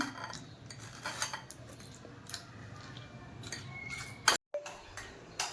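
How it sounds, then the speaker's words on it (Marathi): Custard apple (sitaphal) pulp being worked by hand to pick out the seeds, giving soft scattered clicks and light taps of utensil against a dish, close and quiet, with no talk. "याच्या आपण बिया काढून घेऊया अशाच सगळ्या बिया असंच काढूया"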